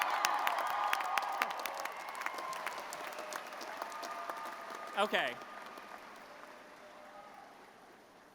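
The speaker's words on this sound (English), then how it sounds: "one more round of applause" Graduation ceremony audience applauding, a dense round of clapping that fades gradually over several seconds, with someone briefly speaking a word midway over the dwindling applause.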